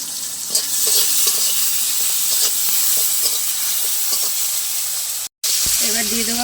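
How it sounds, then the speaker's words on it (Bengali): Tomato frying in a pan, a loud, continuous sizzle with stirring scrapes, cut by a momentary silence near the end, with faint speech in the background. "ভালো করে এটা ভেজে নেবো টমেটোটা সিদ্ধ হওয়া পর্যন্ত"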